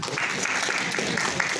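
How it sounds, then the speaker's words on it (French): Audience applause at a community event honouring a Haitian diaspora network, a steady dense wash of clapping from a crowd that runs unbroken through the moment without voices. "je vous demande d'applaudir Mme Mistéphile, qui représente Courage"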